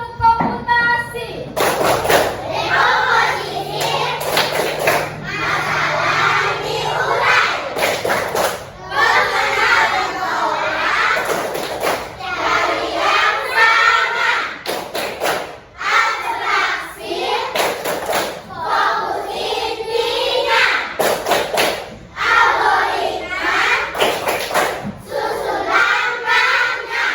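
A classroom of children chants and claps through the rhythmic 'tepuk komputasi' clapping game, sharp synchronized clap bursts alternating with loud group chanting in repeated cycles, a teacher's voice leading between them.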